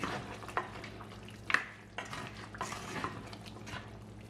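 A spoon scrapes and stirs through a thick country chicken curry with pepper and cumin in a pot, with soft wet sloshing and occasional clinks against the metal, close by.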